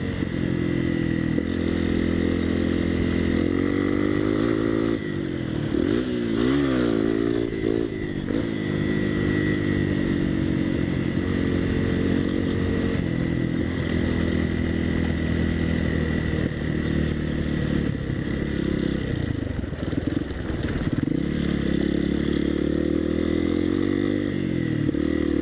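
Honda CRF230L and CRF250L dual-sport motorcycles ride hard, their engines loud and close throughout, revving and shifting with rising and falling pitch, including a third-gear wheelie run.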